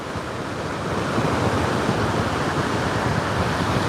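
Rough ocean surf at Marco Island beach, Florida, at sunset: a steady, full roar of breaking waves mixed with wind buffeting, no voices.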